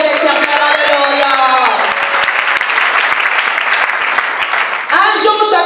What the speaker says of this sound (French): acclamons très fort pour la gloire de l'Éternel